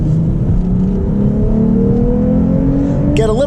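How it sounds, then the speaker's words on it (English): Lexus IS 350 F Sport accelerating on a wet road, heard from inside the car, with a loud engine note climbing steadily in pitch and a sharper rise at the very end. "so we will accelerate"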